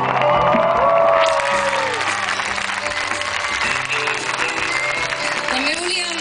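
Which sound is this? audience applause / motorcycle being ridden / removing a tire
audience applause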